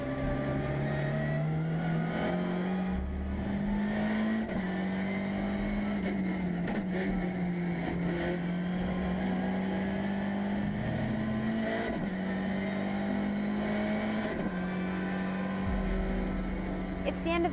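MINI racing car engine droning and revving steadily as it laps a circuit, loud and close from inside the cabin, pitch rising and dipping through gear changes and corners, with occasional voices over the engine.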